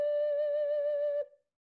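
An ocarina sounds a low C played out of tune with the strong air meant for a high note, one steady, pure, close tone held about a second before stopping abruptly.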